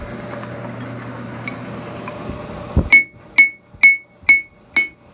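A hammer strikes an anvil bolted down onto a log, which keeps the ring deadened. Five evenly spaced, sharp metallic blows land close up with short, damped ringing, after a stretch of low background hum.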